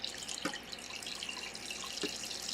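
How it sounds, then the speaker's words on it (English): Cold water pours into thick homemade blackberry juice, a steady splashing trickle like a running tap with two brief louder gushes, close by and alone. "I'm adding cold water"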